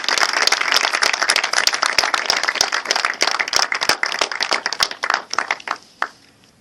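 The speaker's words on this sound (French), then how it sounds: "Applaudir Isabelle et Thierry qui, depuis plusieurs années, donnent leur vie pour lutter contre ces maladies" Audience applause for Isabelle and Thierry, a roomful of hands clapping steadily and densely for several seconds, then thinning out and fading to a few last claps.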